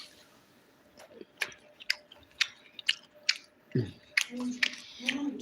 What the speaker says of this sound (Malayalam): ഞാനതാ കഴിക്കാൻ പോകുന്നു ചിക്കൻ ഫ്രൈ മാത്രം